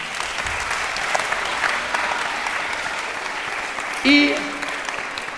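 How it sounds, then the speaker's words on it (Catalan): Audience applause for a young violinist invited up during a children's storytelling concert, a steady wash of clapping running throughout, with a voice speaking over it near the end. "Un aplaudiment para ella."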